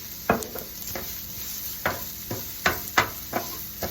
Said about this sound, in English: Okay, I'm gonna put the ham now